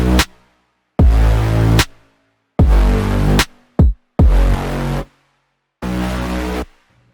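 Two Serum synth bass patches stacked together in a beat, playing a loud, deep, buzzy riff of six notes of varying length separated by short silences, each with a punchy attack.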